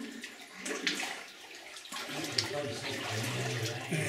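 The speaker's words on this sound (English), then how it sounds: "I hear water back here falling." Water falls and flows steadily inside a flooded tunnel, a continuous splashing rush that fills the space and gets a little louder partway through, with no talking over it.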